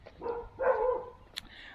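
A dog barks twice from a moderate distance outdoors, each bark short and tonal, followed by a sharp click near the end, with faint background hiss.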